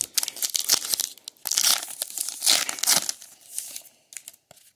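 Foil wrappers of Allen & Ginter trading card packs being torn open, a close, busy run of crinkling and ripping with sharp tearing bursts, fading to a few scattered crackles at the end.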